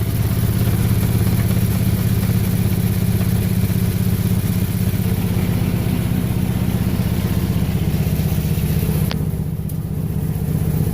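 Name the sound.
Chevrolet HHR engine running roughly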